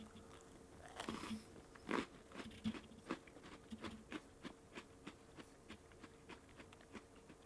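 Biting into a brownie batter flavored Oreo cookie gives a sharp crunch, then a steady run of soft, close-up chewing clicks and crunches that slowly fade, with no talking.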